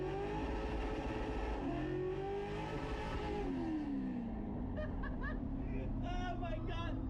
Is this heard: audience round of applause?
no